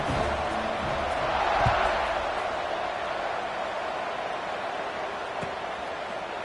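A stadium crowd in a college football video game between Washington and Colorado, a steady wash of cheering and roar at moderate level, continuous across the moment with occasional thumps.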